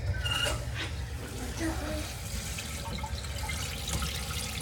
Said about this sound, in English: So what we're gonna do is we're gonna turn on the water.